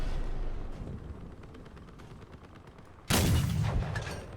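Vehicle-mounted weapons fire in the game Crossout: a sudden loud burst of gunfire erupts after a few seconds of low engine rumble and distant shots, filling the last second at full volume.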